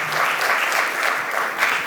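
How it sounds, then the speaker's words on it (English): Keynote audience applause at a workplace culture talk, a dense, continuous wash of clapping from the crowd filling the hall. "So a round of applause for these two."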